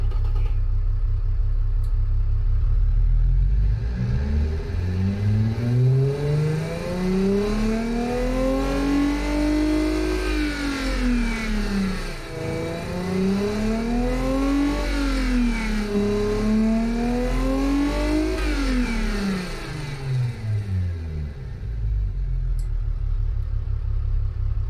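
A big V6 engine in a luxury car in BeamNG revs up and down in long sweeping rises and falls, loud and close, with a steady idle rumble before and after.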